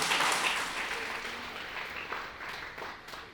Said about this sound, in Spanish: Dale palmas, apláudele fuerte.